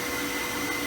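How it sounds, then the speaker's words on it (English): A shop vac runs steadily while sucking engine oil out through a car's oil filler opening, a continuous close whirring hum with no pauses. "It's a shop vac in the place where you put the oil in."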